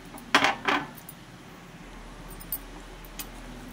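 Almonds and cashews drop into two spoons of ghee in a pan, two quick hard clattering hits close together, followed by a faint, quiet sizzle and a couple of small ticks.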